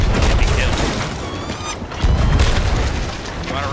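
Cannon fire during a ship battle in the pirate video game Sea of Thieves, heavy booming blasts and mechanical clatter over a dense, loud background, with players talking over it.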